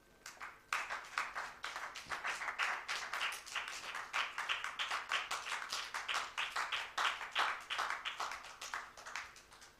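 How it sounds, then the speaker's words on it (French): A church congregation at a Wednesday worship service claps steadily for about ten seconds, dense and rhythmic, a little distant and fairly quiet, with no talk over it. "Acclame pour les seigneurs"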